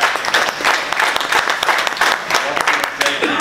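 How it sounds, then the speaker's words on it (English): Loud, dense applause from a crowd honoring boxer Robert Easter, continuous clapping throughout with voices mixed in. "So a big applause for Robert Easter"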